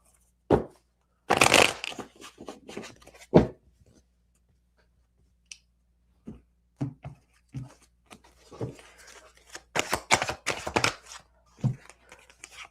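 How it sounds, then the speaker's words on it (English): Tarot cards are shuffled by hand in bursts of crisp riffling and slapping, close and dry, with pauses between the shuffles. "One more shuffle."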